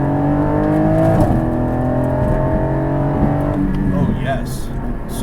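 Porsche Cayman GT4 with PDK gearbox driven hard along an uneven, undulating road, engine note loud and close with rising and falling harmonics as it pulls through gears, plus brief clunks and thumps from the rough surface.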